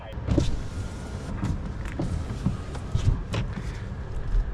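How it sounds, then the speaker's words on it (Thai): A dual-motor MG4 X Power electric car pulls away in normal mode with a low, steady hum and faint road rumble, while someone talks over it throughout. "ตอนนี้เริ่มออกตัวแล้ว ตอนนี้ยังอยู่ในโหมด normal นะ"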